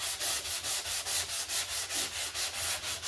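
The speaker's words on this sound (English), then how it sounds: "So what you do is just sand it up in here." Hand-sanding a car body panel along the edge of masking tape, a steady run of about a dozen short, even back-and-forth strokes, close and raspy, with no talking.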